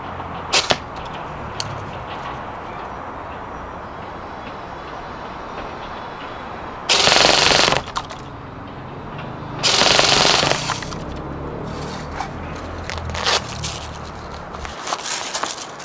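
A G&G SR15 E3 MOD2 electric airsoft gun fires two short, loud bursts of rapid shots, with a few isolated single clicks in between and no talking.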